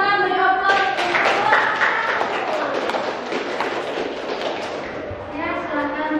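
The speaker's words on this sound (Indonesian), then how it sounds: "Tepuk tangan" A classroom of students claps hands together, a dense burst of applause lasting several seconds that fades out as a voice and tonal sounds rise at the end.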